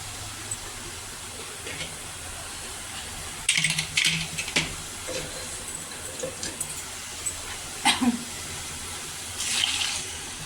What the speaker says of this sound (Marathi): आता मस्त असं थोडंसं पाणी टाकून घेते.